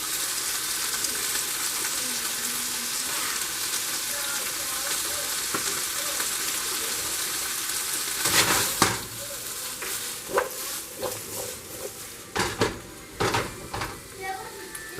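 Sweet peppers sizzle and crackle in a hot pan for a pineapple chicken stir fry, a steady frying hiss with louder clatter and stirring bursts in the second half.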